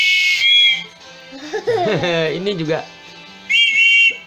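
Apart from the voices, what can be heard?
train whistle keychain being blown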